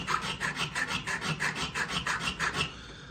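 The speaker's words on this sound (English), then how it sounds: "hand cutting, hand filing each and every bezel to each and every stone" A hand file is worked back and forth on a metal bezel for stone setting in jewelry making. It makes close, steady raspy strokes, about ten of them at an even quick pace, and there is no talking.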